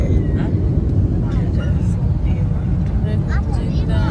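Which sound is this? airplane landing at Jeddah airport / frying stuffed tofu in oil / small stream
airplane landing at Jeddah airport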